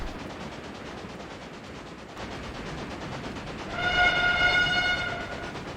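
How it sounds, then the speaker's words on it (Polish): A locomotive runs in the Railway Empire video game, a steady rumbling clatter of rolling train wagons that swells as a bright multi-tone train horn sounds near the end, with no speech. "No ale teraz, super lokomotywa."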